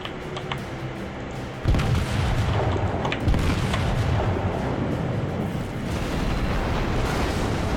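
Heavy naval guns on a warship in World of Warships fire in a sequence of deep booming blasts, with a big salvo at the start followed by rolling rumble and further explosions, loud and close, with no talk over it.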